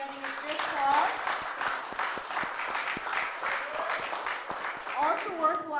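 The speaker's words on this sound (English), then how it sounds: "Let's give them a round of applause for getting it this far." Applause at a WPTDeepStacks Hollywood poker main event final table, a steady crowd clapping for about six seconds with some voices and calls mixed in.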